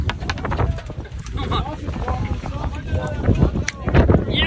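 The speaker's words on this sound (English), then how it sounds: "You can hear the wind is really blowing." Strong wind buffets a fishing boat at sea in rough conditions while bluefin tuna are caught, a steady roar of gusts and water under excited shouting voices throughout.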